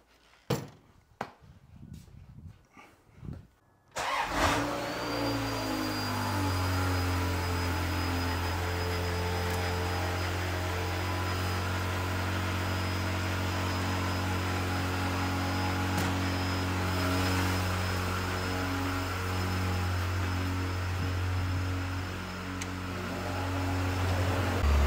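A few clunks and knocks, then a Ferrari F355 engine turns over and settles into a steady, low idle that hums on for a long stretch.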